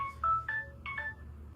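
A telephone sounds a series of short electronic tones in a rapid, uneven pattern, a handful of beeps at varying pitches, moderately loud over a low background hum.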